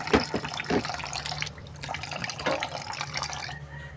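A weak kitchen tap trickles and splashes while frozen salmon head and backbone are rinsed under it, a close, uneven running-water sound with small drips and splashes and no talk.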